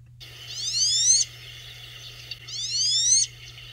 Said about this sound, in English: A drake sitting sound is more like a zip